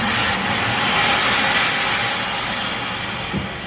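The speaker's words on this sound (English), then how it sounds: "This steam engine, which you're looking at right here, is one cylinder and one piston and a crank over there" A one-cylinder, one-piston steam engine at a heritage village museum gives off a steady, loud, broadband hiss of escaping steam that fades slightly toward the end, with a faint low thump near the close.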